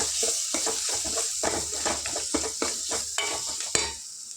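Green chillies fry with a spoonful of turmeric as a spoon stirs them in a pan, making about a dozen rhythmic scraping strokes over a soft sizzle before the stirring stops.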